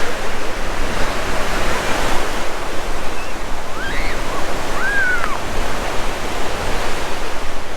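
Ocean surf rolls steadily onto Silver Strand Beach, a loud, unbroken wash of breaking waves. Faint bird calls can be heard briefly within it.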